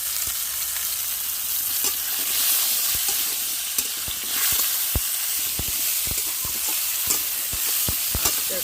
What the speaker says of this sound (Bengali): আস্তে আস্তে করে আমগুলোকে নাড়তে হবে আর এক চামচ দিয়ে দেবো লবণ এক চামচ হলুদ